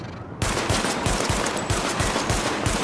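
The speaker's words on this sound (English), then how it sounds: "Weapon test initialized. Open fire at the highlighted targets." Rapid automatic gunfire during a weapon test at highlighted targets in The Division video game, with loud, continuous, evenly spaced shots starting after a short quiet moment and no talking.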